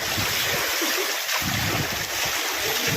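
Floodwater after heavy monsoon rain rushes along a road, a loud, continuous broadband roar with gusty swells and some wind buffeting on the microphone.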